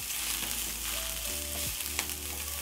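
A seasoning cube and paprika are stirred into noodles and vegetables frying in a pan, giving a loud, steady sizzle with faint scraping from the stirring throughout.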